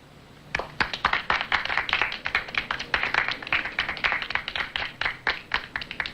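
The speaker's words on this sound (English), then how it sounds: "I think you and the other 4 winners deserve a big round of applause." A classroom group applauds for several seconds, with the individual hand claps distinct and fairly close and no talking over them.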